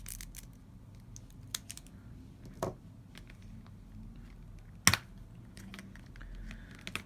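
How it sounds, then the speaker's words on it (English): Scissors snip through the top of a plastic diamond painting drill packet, giving a couple of quick, sharp cuts that stand out over a quiet room with faint handling clicks and rustles. "I'm going to cut the top off."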